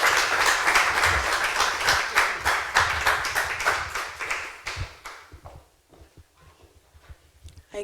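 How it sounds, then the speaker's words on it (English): A seminar audience applauds with rhythmic, fairly close clapping that stays dense for about five seconds, then thins to scattered individual claps and dies away. "Can we please give a round, warm of applause for her,"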